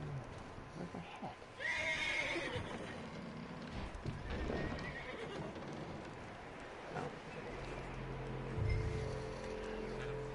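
A horse whinnying in the Red Dead Redemption video game, with hooves clip-clopping and shifting outdoor game sounds, a loud neigh near the start followed by snorts and movement noises.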